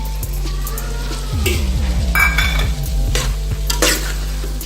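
Boiled peas stirred into softened vegetables in a pan for veg biryani: a spoon scrapes and clanks against the metal pan in a quick repeated rhythm over a soft sizzle, close and fairly loud.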